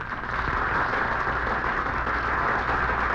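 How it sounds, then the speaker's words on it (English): Steady, dense applause from a studio audience greets guest band leader Ray Anthony on a 1954 radio show, an even wash of many hands clapping at a distance with no pauses. "let's give a nice big round of applause to our guest band leader on stage for the opening number"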